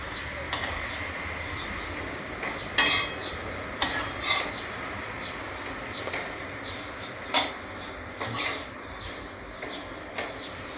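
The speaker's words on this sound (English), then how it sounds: "now I will add these roasted vermicellis to it and I will mix them" Roasted vermicelli being stirred into a pan for vermicelli upma, with a utensil clinking and scraping against the metal in irregular bursts over a soft cooking hiss, close by and alone.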